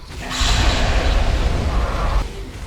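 A Greybeard elder's Thu'um shout in Skyrim VR: a loud, booming roaring blast that swells in, holds steady for nearly two seconds, then cuts off, with no talk over it.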